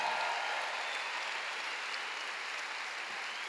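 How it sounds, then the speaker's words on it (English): Church congregation applauding their pastor at a healing conference, a dense, steady wash of clapping that fills the space and holds evenly throughout. "Give our pastor, Charles Niemann, a big clap."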